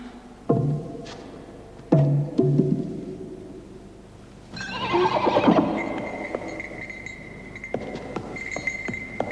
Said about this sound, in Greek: Τι πανέμορφο άλογο!